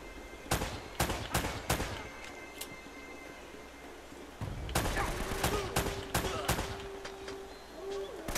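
Gunfire in the game Uncharted: Drake's Fortune crackles in sharp bursts, several quick shots early, a lull, then another flurry of rapid reports with a sustained tone underneath, loud and close.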